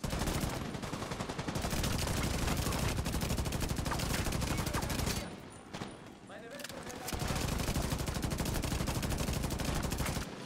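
Turret gunfire in the video game The Division 2 rattles in long, rapid automatic bursts, loud and sustained, with a brief lull midway before the fire resumes, and a voice speaking under it.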